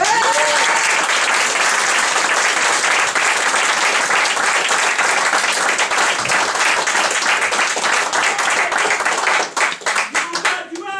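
Loud, dense audience applause fills a theatre as a performer named Noël makes his entrance on stage, sustained for most of the stretch before thinning into scattered claps at the end.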